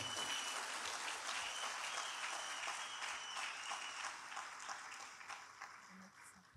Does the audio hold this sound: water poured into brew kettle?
no